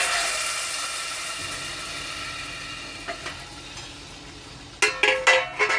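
Steady frying hiss of a tadka tempering in a covered pan, with a few sharp metallic clinks of a utensil against the pan near the end.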